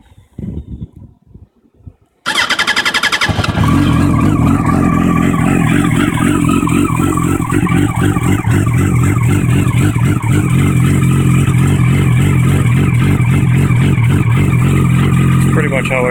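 Yamaha R1 motorcycle engine on a cold start: a brief quiet stretch, then the engine fires and settles into a loud, steady, rough high idle that drones on continuously, close to the exhaust.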